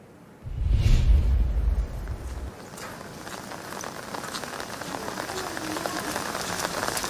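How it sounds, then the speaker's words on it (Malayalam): Light rain falls in Idukki, a steady soft patter of drops on surfaces. A brief low rumble opens it before the even, moderate hiss continues alone. "കനത്ത മഴ എന്ന് പറയാൻ കഴിയില്ല, ചെറിയ മഴയാണുള്ളത്"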